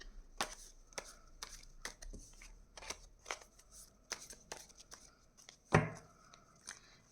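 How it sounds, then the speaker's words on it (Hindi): Tarot cards shuffled and drawn by hand during a reading, a series of crisp, quick riffling and slapping strokes at close range, repeated through the stretch, with a sharper card snap near the end and no talk. "चलिए अब आपके लिए मैं कार्ड्स निकाल रही हूँ।"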